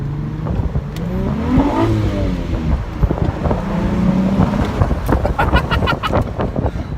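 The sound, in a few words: sports car engine in tunnel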